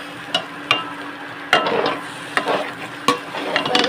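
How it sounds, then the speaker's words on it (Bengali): Rice being stir-fried in a pan for pea pulao, a close, continuous sizzle with a handful of distinct scraping stirs spaced about a second apart. "তো এই চালটা আমি কষিয়ে নিচ্ছি ভালো করে"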